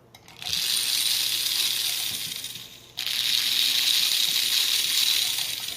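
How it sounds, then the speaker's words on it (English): A Marx toy train motor runs after its E-unit reverse unit has been bypassed, making a close, buzzy, rattling whir in two runs with a short break between them. "So the motor now runs."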